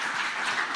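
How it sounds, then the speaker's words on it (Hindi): Studio audience applause at a televised News 24 debate, a dense, steady wash of clapping for the whole short stretch with no voices over it. "एक बार और जोरदार तालियां हो जाए।"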